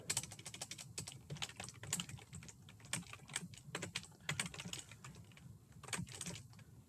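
Rapid clicking keystrokes on a computer keyboard, an irregular run of close, crisp taps continuing steadily with brief pauses and no talking.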